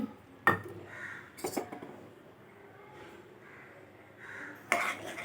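A spoon clinks against a pot while sugar and powdered cardamom are stirred into carrot and sago (javvarusi) payasam. A few spaced, fairly quiet metallic taps and scrapes sit over a soft kitchen background.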